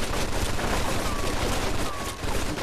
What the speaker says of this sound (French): on dirait qu'on a retrouvé la mitrailleuse